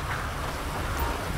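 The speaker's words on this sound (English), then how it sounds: "Where the heck did the rain come from, yo?" Steady rain falls in a GTA 5 police patrol scene, a dense, even hiss of moderate loudness with a faint low rumble, no voices.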